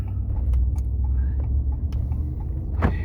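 A car drives along on a commute, its steady low road rumble and engine hum filling the cabin throughout, with a few faint clicks and a brief swell of road noise near the end.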